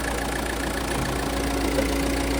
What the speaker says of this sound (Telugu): ఇంజన్ ఎక్సలెంట్ ఉంది, చాలా సైలెంట్ ఉంది